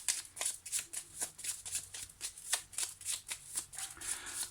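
Petit Lenormand cards being shuffled by hand, a steady run of crisp riffling and slapping strokes, close and fairly quiet, with no talking.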